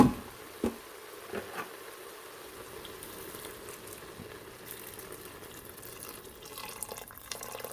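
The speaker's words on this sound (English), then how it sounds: "all you want to do is add some water and cover this up" Water is poured into a mung bean curry in an Instant Pot, a soft steady trickle and splash running quietly after a couple of brief knocks, with no talking.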